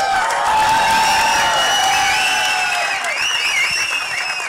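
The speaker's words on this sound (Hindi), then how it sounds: "ताली बजा के बताओ यार" A crowd at a trailer launch for the Hindi film Yamla Pagla Deewana Phir Se claps steadily and loudly, with cheers and whistles rising above the dense applause throughout.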